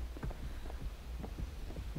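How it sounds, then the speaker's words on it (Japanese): A killer's terror-radius heartbeat in the horror game Dead by Daylight: a deep, thudding double-beat pulse repeats steadily and loudly over a low humming drone, with no speech. "あんだけ心音がしたから"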